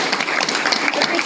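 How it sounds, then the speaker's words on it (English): Applause for teachers at a TPS school board meeting, a steady dense patter of many hands filling the room, moderately loud and continuous through the short stretch with no pauses. "if you could give them a round of applause"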